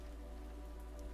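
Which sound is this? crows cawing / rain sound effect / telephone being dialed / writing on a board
rain sound effect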